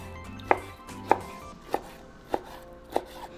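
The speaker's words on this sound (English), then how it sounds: "and then cut them into small pieces" A knife chops onion and Roma tomato into small pieces on a board, five crisp, evenly spaced thunks about half a second apart, close and clear with no talking.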